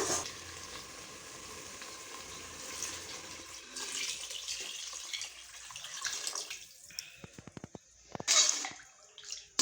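Water is poured from tumblers into a pot of brinji rice, a steady splashing gush that comes in several bursts with pauses, ending in clinks and knocks of a vessel against the pot.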